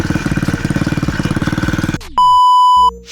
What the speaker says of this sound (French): voilà ce que donne le nouvel échappement. Il fait un bruit plutôt sympa.